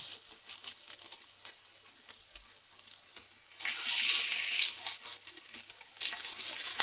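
Paneer tikka sticks go into hot ghee in a pan, setting off a soft, close sizzle that swells suddenly and then crackles on more quietly.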